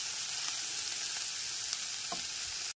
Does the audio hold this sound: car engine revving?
no